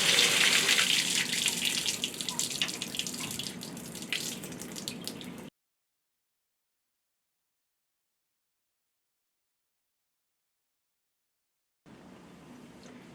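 Water gushes loudly through an opened plumbing valve set into a wall, a strong steady flush that cuts off abruptly, then after a long silence resumes as a quieter, steady flow.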